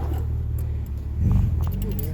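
A 1968 MGB's engine rumbles steadily at low speed during a stick-shift lesson, swelling louder about halfway through as the driver presses the gas, with a faint light jingle on top.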